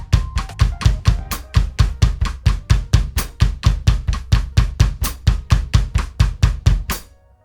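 A slow drum beat using hi-hat in place of tambourine, with evenly spaced, punchy hits repeating steadily for about seven seconds and played alone, the final stroke ringing out.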